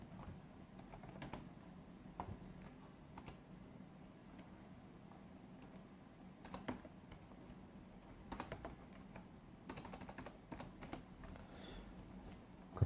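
Quiet computer keyboard typing with scattered clicks and short flurries of keystrokes, including the press of Enter, recorded close and alone.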